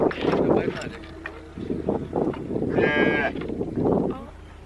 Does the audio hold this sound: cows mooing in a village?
yes